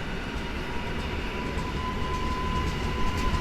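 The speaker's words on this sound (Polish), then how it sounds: "O, i jeszcze jedzie skład Polregio." A Polregio regional train rolls through Warszawa Zachodnia station under construction, a dense steady rumble of wheels and carriages with a faint high tone riding above, loud and continuous.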